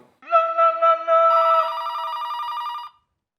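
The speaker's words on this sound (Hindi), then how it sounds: "लेकिन फोन बज रहा है ना भैया।" A telephone rings in a bright, repeating electronic trill, loud and close, switching partway to a denser ringing pattern before stopping abruptly after about three seconds.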